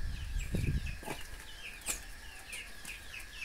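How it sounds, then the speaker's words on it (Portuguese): Laying hens walking around in a farmyard pen give soft repeated clucks and chirpy calls, with a brief low rustle near the start, at moderate distance and no talking. "E é tudo botadeiras, são tudo para botar ovos."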